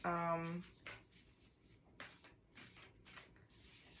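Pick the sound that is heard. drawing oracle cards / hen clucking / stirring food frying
drawing oracle cards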